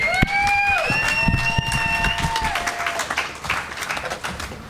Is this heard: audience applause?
yes